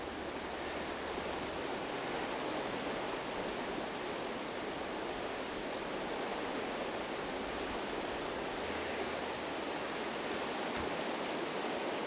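The Orava river in Slovakia runs high, giving a steady, full rushing roar of water that stays constant and close throughout, with no voices.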